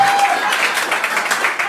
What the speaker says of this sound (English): let's get a round of applause for...